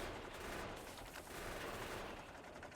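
Rapid sustained gunfire from the player's standard gun in Factorio, a dense continuous rattle of shots at even volume throughout, with no pauses.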